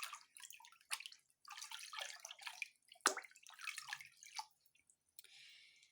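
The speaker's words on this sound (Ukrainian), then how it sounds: "І другий стаканчик виливаємо в друге відеречко." Liquid orchid fertilizer is poured from a small cup into a bucket, giving quiet close splashes and trickles in several short bursts with a sharp knock midway, over a near-silent background.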